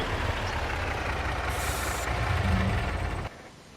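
A truck on a farm pulls up and parks, its engine rumbling close before a sharp hiss of the air brake, then the engine cuts to near quiet at the end.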